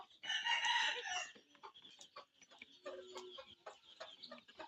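Free-range native country chickens cluck and crow loudly at first, a rooster-like call dominating the opening second, followed by softer scattered clucks and pecking sounds nearby.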